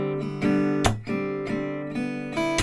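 Steady downstroke strumming on an acoustic guitar plays a song, with even rhythmic chord hits and ringing strings, close and alone.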